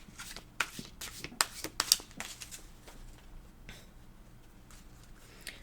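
Thick animal oracle cards shuffled by hand, with quick close riffling bursts and sharp flicks in the first two seconds, then a softer, steady rustle of cards.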